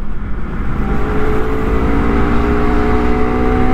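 A Honda CBR250RR SP sport motorcycle engine revs steadily and loudly up close, a continuous rising whine with a rumbling low end that holds throughout without speech.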